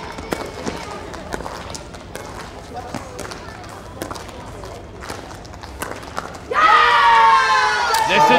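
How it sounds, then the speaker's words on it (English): A crowd at a pickleball semifinal in New Delhi bursts into a loud roar of cheering near the end, after a stretch of sharp ball pops, footsteps and court noise with a commentator talking throughout. "Listen to the roar."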